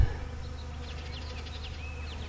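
Honey bees buzz around a hive in a steady, close, continuous drone, with a few faint chirps flickering above the hum.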